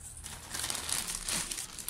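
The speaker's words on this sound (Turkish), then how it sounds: "Şu şekilde bir kilitli poşetlere koyuyorum." A plastic zip-lock bag crinkles steadily and close up as violet leaves are slipped inside, a continuous rustle with no talking.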